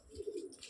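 A single soft pigeon coo, a short throaty warble heard faintly and alone.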